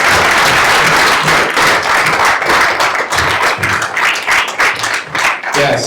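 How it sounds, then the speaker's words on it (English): An audience at a public conversation on American democracy claps warmly, many hands blending into a full roar with a few sharp, close claps standing out as the applause gradually thins toward the end. "One more round of applause."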